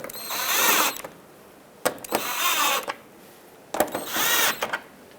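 Fender liner mounting screws being snugged up on a 2003-2009 Toyota 4Runner, three separate bursts of whirring, rattling driver noise about a second long each, close and fairly loud with short pauses between.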